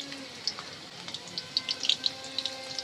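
Dried Bombay duck fish is rinsed under running water in a home kitchen: a faint trickle with scattered small splashes and drips.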